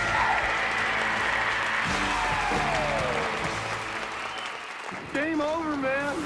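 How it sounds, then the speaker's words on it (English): A stadium crowd at a Yankees baseball game gives a round of applause for Anthony Volpe, steady clapping and crowd noise throughout, with a whistle-like melodic tone and voices rising over it near the end. "one last round of applause for Mr."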